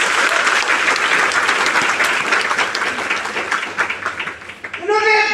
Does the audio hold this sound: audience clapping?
yes